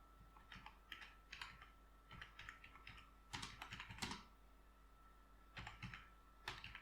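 Typing on a computer keyboard, heard as quiet, close keystroke clicks in quick irregular bursts with short pauses between them, over a faint steady hum.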